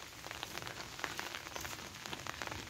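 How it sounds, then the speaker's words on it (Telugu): Heavy rain pours steadily on fruit trees in an organic orchard, a dense, even patter of drops with no voices. "వాన అండి, బాగా వాన చూడండి"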